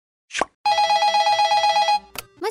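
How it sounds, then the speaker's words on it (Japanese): A telephone rings with a bright, rapidly trilling electronic bell in one sustained burst of about a second and a half, loud and close, with brief noises just before and after. "お客さんから電話かかってきてるんですよ"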